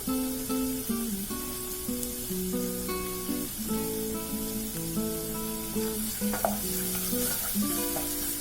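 Dry red chillies and curry leaves frying in oil for a chickpea spinach curry, a steady sizzle under background music with occasional stirring scrapes.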